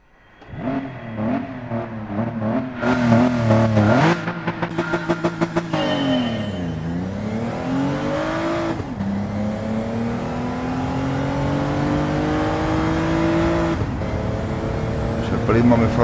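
A race car engine in the video game Gran Turismo 7 revs hard, climbing and dropping in pitch through quick gear shifts, then settles into a sustained roar under a voice talking.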